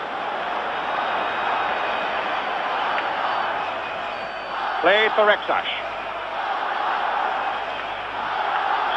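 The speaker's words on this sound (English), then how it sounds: "Spanish crowd have really found their voices in the last quarter of an hour" Spanish football crowd at Barcelona vs Leeds United in 1975 keeps up a steady distant roar, with a commentator talking over it throughout and a brief whistle-like rise midway.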